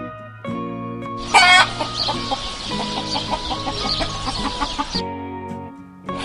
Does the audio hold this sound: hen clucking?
yes